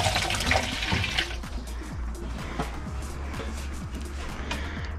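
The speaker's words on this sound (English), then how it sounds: "I'm gonna wash my hands because it's too oily." Tap water runs in a steady, splashy stream while oily hands are washed under it, close and continuous with slightly louder gushes at the start.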